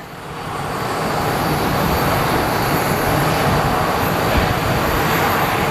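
A Southwest airliner rolling for takeoff to Columbus at Sky Harbor Airport: a loud, steady broadband jet roar that swells in the first second and then holds evenly, with no voices.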